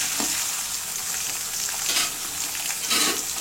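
Ginger garlic paste being sautéed in a pan for a banana flower cutlet, giving a continuous, close hiss of frying with a few brief surges of louder sizzle as it is stirred, and no talking.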